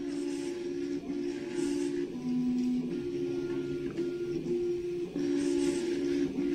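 CoreXY 3D printer prototype at 3000 acceleration and 20 jerk, its steppers singing in changing whining tones as the head darts and reverses, close, loud and continuous with brief dips at direction changes.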